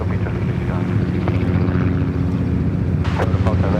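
A Dash 8 propeller airliner landing at Sydney Airport, its turboprops giving a loud, steady low drone with a throbbing hum throughout, while people talk over it nearby.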